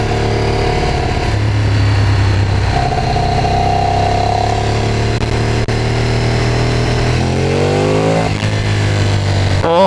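A Ducati Streetfighter track bike's engine runs loud and close, holding a steady idle before revving upward with rising pitch and dropping back, continuous throughout with no talking.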